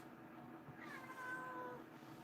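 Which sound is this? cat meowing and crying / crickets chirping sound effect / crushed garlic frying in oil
cat meowing and crying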